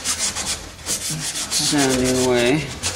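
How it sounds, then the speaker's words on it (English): Sanding on the welds of a vehicle's underside gives close, loud, rhythmic rasping strokes with a brief whining squeal partway through, and no one speaks. "sanding away on the underside, cleaning up those welds"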